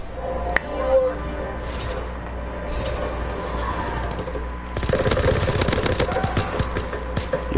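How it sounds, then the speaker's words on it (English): Rapid gunfire in a PS4 shooter game, a dense rattling volley that grows louder and more intense midway, continuing steadily near and loud over background game noise. "That fast shooting really means something."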